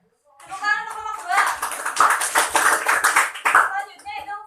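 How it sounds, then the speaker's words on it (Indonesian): Students in an Islamic history class applaud a presenting group, a lively patter of hands clapping that builds after a spoken prompt and continues for a few seconds with voices mixed in. "Tepuk tangan untuk kelompok"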